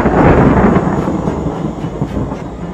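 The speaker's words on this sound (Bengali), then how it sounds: "বজ্রপাত হয়।" A thunder strike booms as one heavy, rumbling roll that starts loud and slowly fades over a few seconds, with no voices over it.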